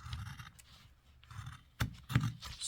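Cold metal scissors snipping through fabric on a basement sewing table, a few short crisp cuts and scrapes, fairly quiet and close, with pauses between strokes.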